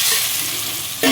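Pieces of amaranth leaf are stirred in hot oil in a pan with a flat spoon, giving a steady close sizzle with a sharper burst at the end.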